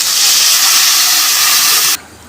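Water poured into hot, oily fish curry gravy for a Bhola fish jhal erupts in a loud, steady steam hiss that cuts off abruptly near the end, leaving a quieter simmer.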